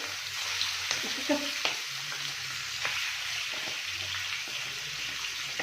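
Chicken liver sizzles in a hot pan with a continuous bright hiss, with occasional clicks and low murmurs from handling nearby.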